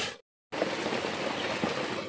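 Water pouring into a pot of cooking mung beans, a steady splashing rush after a short silent gap, close and fairly loud, continuing without a break.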